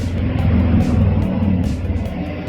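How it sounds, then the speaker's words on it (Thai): A BMW 3 Series E46 engine fired up with a push-start button settles into a steady, loud low rumble of idle that runs the whole time, with no talking over it. "สตาร์เครื่องนะครับอย่าเบรกนะครับ กดหนึ่งครั้งนะครับ ก็ได้ทำการสตาร์ทเครื่องไปเรียบร้อยนะครับ"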